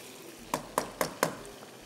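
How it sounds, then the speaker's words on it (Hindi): Masala frying in a pan while being stirred, with four evenly spaced metallic scrapes or taps of a spoon over a soft sizzle, close and fairly loud. "देखें इसका जो मसाला है भुनने लगा है"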